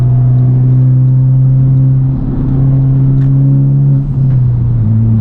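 A Honda Civic Type R with a tuned engine and aftermarket downpipe accelerates hard, its loud droning engine note climbing steadily, then briefly dipping at quick gear shifts before pulling again, close and continuous with no talking.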